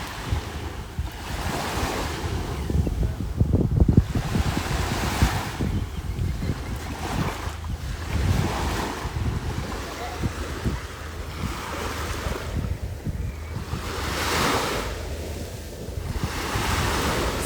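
Ocean waves at the beach, a continuous rolling surf that washes in and out in slow surges, with gusty wind buffeting the microphone throughout.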